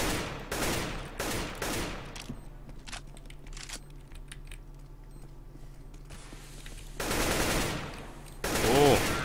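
Rapid bursts of automatic gunfire from a CS:GO zombie escape match, loud and close in a few clustered volleys with quieter stretches of faint in-game clicks and distant shots between them.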